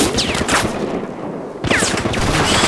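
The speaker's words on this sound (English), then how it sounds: "Heavy ass fire, man." Heavy automatic gunfire from Battlefield Hardline rattles in dense, loud bursts, a brief gap, then another sustained volley close by.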